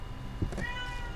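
A small cat gives a single short meow, close and clear, over a faint low background hum.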